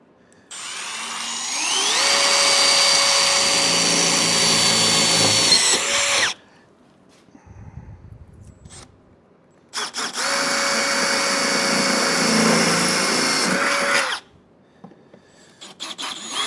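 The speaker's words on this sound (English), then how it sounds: "So we're going to drill these three." Power drill boring holes for off-road corner armor being installed on a vehicle, two long loud runs of steady whining motor and cutting noise separated by a quieter pause, no talking.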